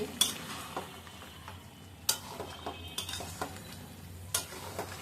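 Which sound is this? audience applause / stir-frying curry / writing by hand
stir-frying curry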